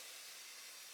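Fritter batter, scooped in egg-sized portions, frying in a pan, giving a steady, even hiss of sizzling oil with no talking.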